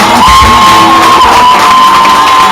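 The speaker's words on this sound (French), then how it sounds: "Acclame fortement Jésus" A church congregation cheers, whoops and shouts in acclamation of Jesus, a loud, dense crowd roar sustained throughout with a high held cry riding over it.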